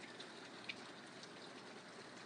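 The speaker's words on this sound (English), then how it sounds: "You got the rain too. We're getting it now." Steady rain falls on an outdoor surface, a soft, even hiss with a few scattered drops ticking close by; faint and continuous, with no voices.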